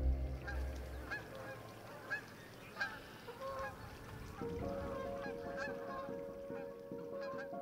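Geese on a goose farm honk repeatedly at a moderate distance, layered over a low murmur of farm background noise. Partway through, a steady low hum joins in.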